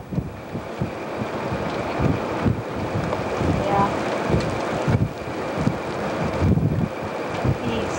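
Wind blows hard during a tornado near Guide Rock, Nebraska, a continuous gusty roar battering the microphone, swelling and dipping in waves across the whole stretch.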